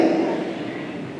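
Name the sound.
imitated deep relaxed breath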